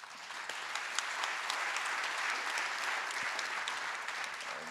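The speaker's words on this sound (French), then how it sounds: "Et donc il faut l'applaudir aussi" An audience at a French-language public event honoring a Belgian Academy member gives steady, fairly faint applause, a dense patter of clapping that holds evenly for several seconds with no voices over it.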